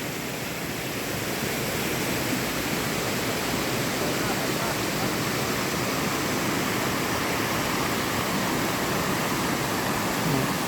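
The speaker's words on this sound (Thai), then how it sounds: "เป็นน้ำตกไม่ใหญ่มาก" Steady, full rushing of a small waterfall in Khao Yai National Park, Thailand, constant and close, with no pauses or changes.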